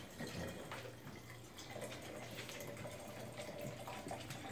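A drink poured slowly without ice, a soft steady trickle of liquid close by and fairly quiet, running unbroken for a few seconds in an indoor room.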